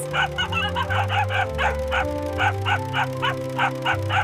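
Several dogs bark in a quick, repeated rhythm over a bouncy musical background, yapping steadily throughout.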